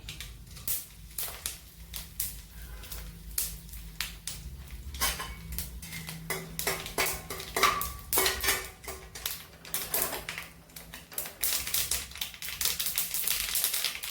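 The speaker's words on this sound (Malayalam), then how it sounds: "അല്പം കടുകിട്ട് അതിലേക്ക് 1-2 വറ്റൽ മുളക് ഇട്ട് കൊടുക്കാം." Mustard seeds and one or two dried red chillies spluttering in hot leftover oil for a Kerala-style pickle tempering, a dense run of sharp crackling pops and clicks that grows busier and louder over the clip, with no talking.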